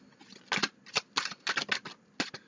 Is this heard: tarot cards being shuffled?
yes